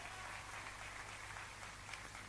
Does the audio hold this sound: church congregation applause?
yes